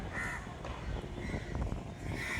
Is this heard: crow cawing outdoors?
yes